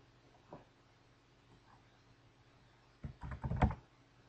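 Typing on a computer keyboard while entering an address, a lone keystroke followed by a short quick burst of clicks near the end, close and quiet against a steady background hum.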